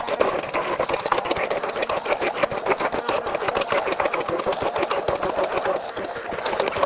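An immersion blender whirs steadily as it purees braised pork and vegetables, a loud, continuous buzzing motor with a fast rattling pulse that holds for several seconds without talk.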